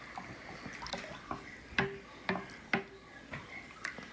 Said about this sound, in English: Let's give it another quick stir.